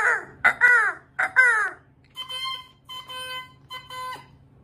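A voice imitates a crow, giving a run of harsh, nasal caws close to the microphone, followed by several shorter, thinner, more tonal calls with pauses between them; no other talk.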